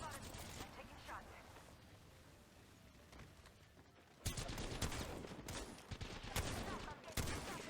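Bursts of automatic gunfire in the battle royale video game Apex Legends, a steady rattle of shots that grows louder and denser partway through, with game effects and voice lines mixed in.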